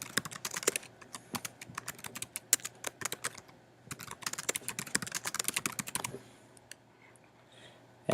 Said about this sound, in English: Type in the account information